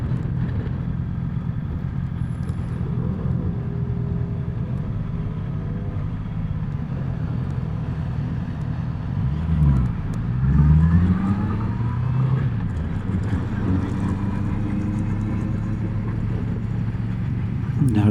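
Cars moving through city traffic across several lanes at night, a continuous low road rumble with passing vehicles swelling and fading, steady and fairly loud, with some wind noise and a faint voice.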